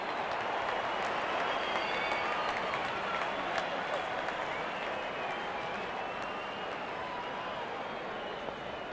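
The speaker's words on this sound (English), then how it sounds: "There's such a wonderful crowd in to watch their favorite players." Dense stadium crowd applause and cheering in the Real Cricket 22 video game, a steady, loud wash of clapping that fills the whole stretch with a faint hint of voices mixed in.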